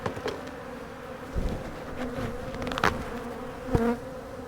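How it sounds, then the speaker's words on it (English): Aggressive honey bees buzz around an open hive, a continuous droning hum with individual insects passing close in sharp bursts, fairly faint overall. "look how aggressive these bees are."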